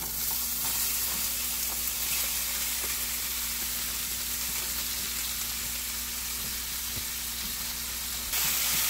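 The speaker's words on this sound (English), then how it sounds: "I said, this pan is pretty hot. I'm just going to stir fry this up a little bit." Cashew chicken sizzling and frying in a hot pan on medium-high heat, a steady loud crackle with small pops from stirring, continuous throughout and with no talking.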